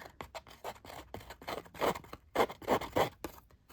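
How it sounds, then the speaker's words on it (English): Scissors scrape and snip along paper edges to distress them for junk journaling, a close series of rapid rasping strokes in uneven bursts. "Manual distressing. Just use the inside of your scissors."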